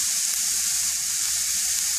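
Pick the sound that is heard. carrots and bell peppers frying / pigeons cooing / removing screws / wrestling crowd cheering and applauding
carrots and bell peppers frying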